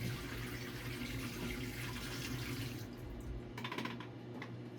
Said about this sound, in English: pouring out first wash, and the second wash